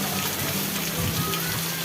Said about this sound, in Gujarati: આ સાઈડ તો દેખાતું નહીં એટલો બધો વરસાદ પડે રહ્યો